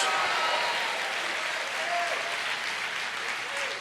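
Church congregation applauding together during a Portuguese-language worship service, a steady wash of clapping sustained for several seconds with faint voices mixed in.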